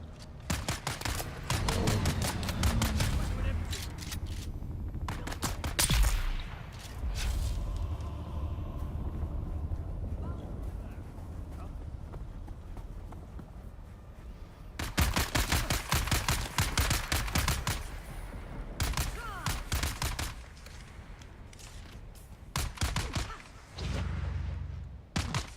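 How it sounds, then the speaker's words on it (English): Enemies fire at the player in a video game, loud bursts of rapid automatic gunfire in long volleys separated by brief lulls, with rumbling action underneath. "Ah, they're shooting at us."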